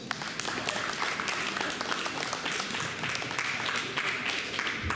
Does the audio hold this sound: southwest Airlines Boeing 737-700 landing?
no